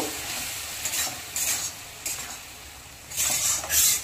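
Spice paste with a splash of water sautéing in a pan for a pumpkin, potato and prawn curry, a hissing sizzle that swells with several bursts of stirring, close and without voices.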